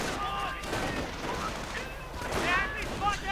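Dense, continuous battle gunfire from a World War II real-time strategy game, US forces against Wehrmacht infantry and grenadiers, with rifle shots and an explosion. It is loud and steady for the whole stretch, with a voice mixed into the din.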